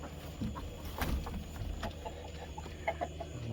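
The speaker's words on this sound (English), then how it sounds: "closing these crazy chickens up" Chickens cluck and murmur inside their coop at dusk, a scatter of soft close clucks and short calls over a low rumbling background, with a few sharper squawks toward the end.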